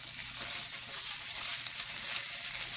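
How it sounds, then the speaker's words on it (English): Eggs fry in a pan with a steady, dense, hissing sizzle that runs close and unbroken throughout, with no voices. "We are gonna be flipping them now and then so they get cooked"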